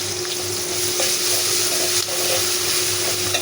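Fish coated in ginger and garlic paste fries in a pan, making a continuous close sizzle with light stirring clicks and scrapes, heard alone with no talk.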